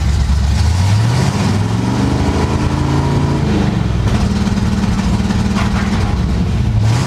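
A stepside pickup truck engine fitted with a Mallory 695 two-step ignition box revs and holds loud, close and steady, its pitch rising and falling as it bounces against the rev limiter.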